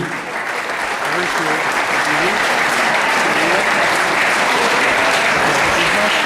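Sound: applause for the jury at a beauty pageant

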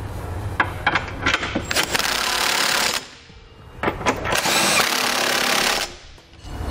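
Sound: 19 millimeter socket tightening trailer hitch hardware

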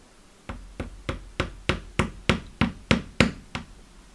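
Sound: hammer tapping a needle into metal

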